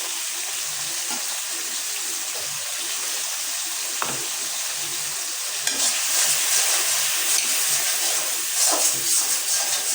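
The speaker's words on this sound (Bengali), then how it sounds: "তো একটু মশলাটা কষাই নেই" Turmeric, chili powder and salt being stirred and fried in a hot pan for an egg dish, a steady sizzle with scraping stirs throughout, louder bursts near the end, no voices.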